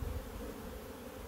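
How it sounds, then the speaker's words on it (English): Honeybees buzz around a frame pulled from a nuc hive with bees emerging on it, a steady close droning hum with no voices. "There's some bees emerging on it."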